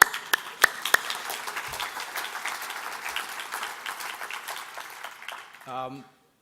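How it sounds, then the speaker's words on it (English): An audience applauds at a university awards evening, a sustained wash of many hands clapping at moderate distance with a few sharp nearby claps early on, fading out as a voice begins to speak. "we can clap right now for him"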